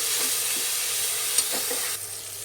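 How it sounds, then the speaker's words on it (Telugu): Tomatoes and onions frying in a pan while being stirred: a steady close sizzle with soft scraping strokes, no voices. "ఇప్పుడు ఈ టమాటాలు కూడా బాగా మెత్తగా అయ్యే వరకు తిప్పుకోవాలండి"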